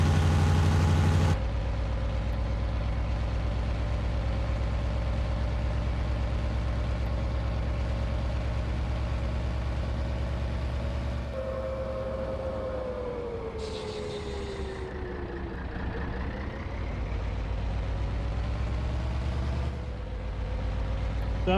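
Truck engine in a farming simulator running steadily at low rumble with a droning hum, rising in pitch around the middle as it accelerates, continuous and close throughout.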